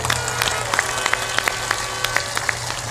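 An audience at a religious discourse gathering claps to honour an arriving guest, a dense steady wash of applause with sharper individual claps throughout, fairly loud and close.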